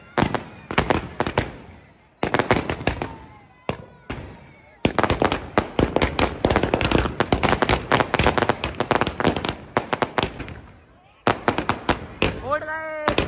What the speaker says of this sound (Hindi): वो पटाखे सब एक साथ निकल रहे हैं